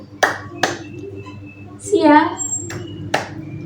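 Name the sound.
class clapping hands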